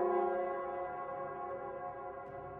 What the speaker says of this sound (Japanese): 照明広場の鐘の音。